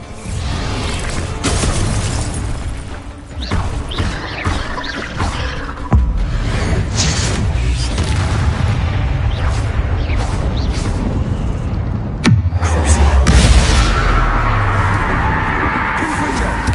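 Confringo and Bombarda spell blasts in a video game, a dense run of explosive bursts, crackles and shattering impacts with whooshing tails, loud and close, layered over constant game noise.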